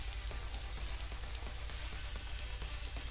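Rain falling in a Teenage Mutant Ninja Turtles video game, a soft, steady hiss of drops pattering on surfaces, fairly faint and continuous throughout.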